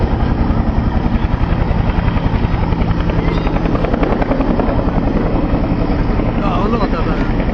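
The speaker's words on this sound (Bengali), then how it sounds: "বাংলাদেশ এয়ারফোর্সে প্রশিক্ষণরত হেলিকপ্টারটি" A Bangladesh Air Force training helicopter hovers into position at a runway in Sylhet, its loud, steady rotor thump and engine roar continuous and close throughout, with possible faint voices beneath.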